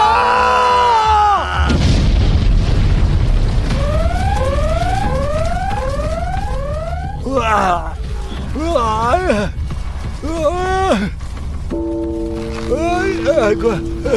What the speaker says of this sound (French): Une bombe.